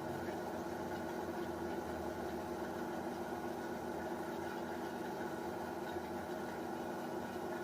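A tractor engine idling in the video game Farming Simulator 17, a steady low droning hum with even tonal bands, constant and unchanging for the whole stretch, no talk.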